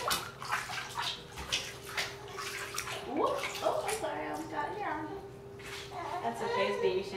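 Water gushes into a giant hotel bathtub in New Jersey, a steady rushing splash beneath a man's and a child's chatter, with a low hum running underneath.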